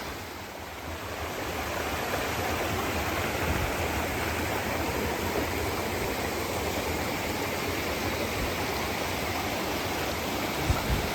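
Mountain stream water in Berchtesgaden rushes steadily past at close range, a dense, unbroken wash of noise that holds at an even loudness throughout, with no voices.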